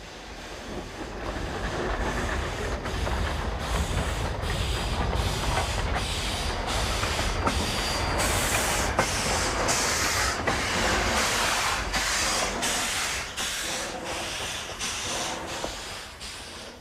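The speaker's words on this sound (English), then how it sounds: "the engine backs down the tracks to the depot where it will couple to its train" Baldwin-built 1925 narrow-gauge 2-8-2 Mikado steam locomotive, Engine 489, backing down the tracks toward a depot, giving a loud, steady hiss of steam with faint rhythmic chuffs throughout and no voices.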